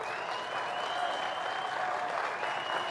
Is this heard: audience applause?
yes